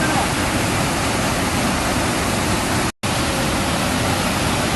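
Heavy rain and floodwater rushing at a mountain tourist spot form a dense, loud, continuous roar of noise, broken only by one brief cut.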